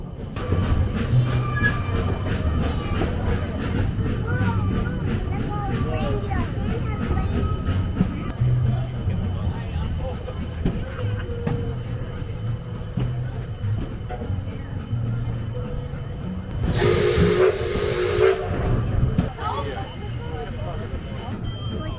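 Rolling train ride with steady rumble and rhythmic wheel clatter, people chatting throughout, and a brief hiss of air partway through.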